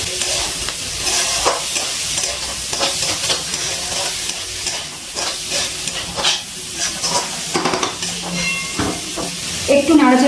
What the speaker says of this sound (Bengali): আর দিয়ে দিচ্ছি মটরশুঁটি। একটু নাড়াচাড়া করে নেব।